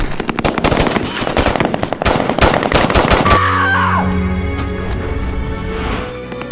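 Rapid automatic gunfire rattles loudly through a film firefight, with dense bursts for several seconds before giving way to a lingering ringing tone and softer, distant shots.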